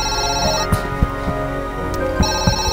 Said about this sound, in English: Quickly, pick up the phone.